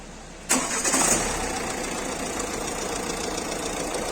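A repaired Fiat Tipo 1.6 Multijet diesel engine cranks and catches with a loud burst, then settles into a steady, rough idle that continues close by.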